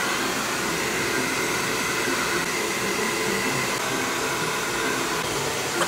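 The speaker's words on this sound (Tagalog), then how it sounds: "Papatuyuin ko na yung buhok ko. Bu-blower ko na lang siya para mas mabilis." A hair dryer blows continuously, a loud, steady whooshing roar close by with no break.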